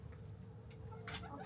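Backyard hens on a homestead give a short, soft cluck or two over a low rumbling background.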